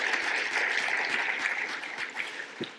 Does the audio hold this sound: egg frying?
no